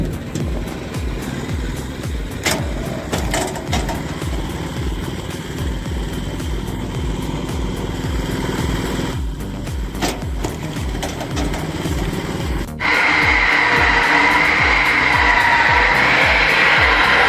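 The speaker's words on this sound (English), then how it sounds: "a tractor-powered circular saw delivers powerful performance and high precision" A tractor-powered circular saw cutting firewood on a homemade processing machine runs with a loud, steady engine drone and rapid rhythmic pulses, and a sharper, brighter whine rises abruptly near the end as the blade bites into wood.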